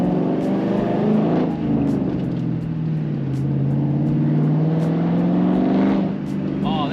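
A loud, deep V8 engine of a Mustang with a muffler delete rumbles from inside the car, its pitch dipping and rising with the throttle, while a person talks over it.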